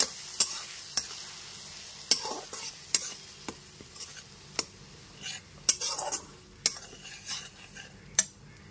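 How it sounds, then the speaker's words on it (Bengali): Tomato paste sautéing in a pan for an elephant-foot yam and potato curry, with a low steady sizzle and repeated sharp scrapes and clinks of a spoon stirring against the pan, close up and without speech. "টমেটো বাটাটা দিয়েও খুব ভালো মতো কষিয়ে নিতে হবে।"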